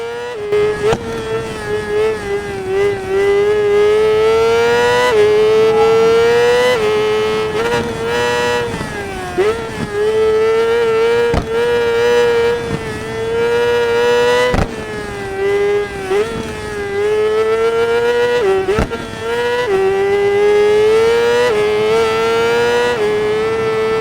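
A motorcycle engine in the video game Ride 4 on Xbox One whines continuously, its pitch climbing and dropping with gear shifts, punctuated by sharp clicks and brief cuts.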